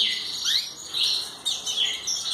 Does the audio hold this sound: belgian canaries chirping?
yes